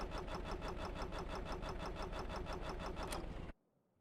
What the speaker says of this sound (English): Come on, you dumb engine.